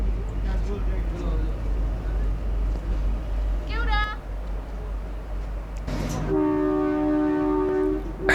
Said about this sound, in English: the train has blared the horn